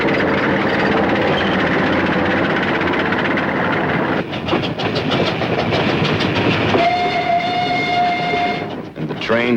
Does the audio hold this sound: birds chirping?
no